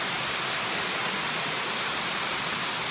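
Manoa Falls pours in a steady, dense, hissing roar of falling water, heard close and loud without a break and with no voices over it.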